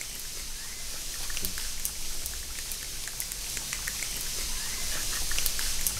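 A foley rain effect made with a plastic bag gives a steady patter of small drops, dense and close, with a soft continuous hiss under scattered sharper ticks and no talking.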